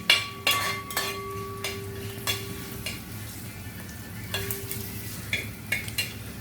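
For a fish curry, a spoon stirs and scrapes in a frying pan over a steady sizzle, with repeated sharp metallic clinks and knocks close by and no voices.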